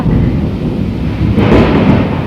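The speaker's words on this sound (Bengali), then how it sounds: "মনে হইতেছে সামনেই পড়তেছে" Close thunder growls through a rainstorm, a sustained loud low rumble with a sharper brighter crack breaking in about halfway, rain pattering throughout and no speech.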